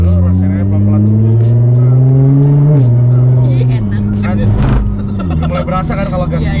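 A Nissan GT-R R35 accelerates while driving. The engine rises loudly through the revs, shifts, and pulls again, with a brief rushing burst near the end. Voices talk under the engine.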